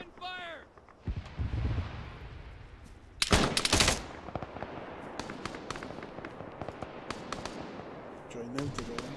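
Gunfire in the ARMA 3 video game: a dense, loud volley of shots around the middle, then a steady scatter of sharp reports, some near and some distant. A voice is briefly heard at the start and again near the end.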